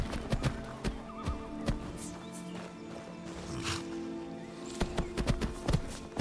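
A horse in Skyrim whinnies in a pine forest, its neigh mixed with hoof clip-clops and scattered sharp taps, the hoofbeats clustering loudly near the start and again toward the end.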